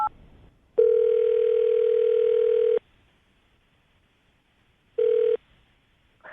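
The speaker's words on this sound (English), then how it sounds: "we're going to call him right now, get him on the phone" Telephone ringback during an outgoing call, a steady electronic tone held for about two seconds, then silence, then a shorter burst of the same tone, clear and near, with no voices.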